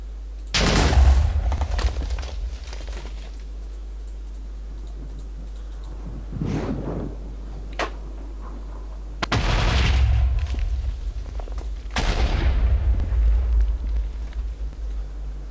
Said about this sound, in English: I liked how the Ender Dragon just destroyed half my table room